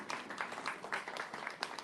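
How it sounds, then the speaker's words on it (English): An audience gives a brief round of applause for an honoured guest, with scattered, uneven claps at a distance, fairly faint. "Another round of applause for Mr. Dambuza."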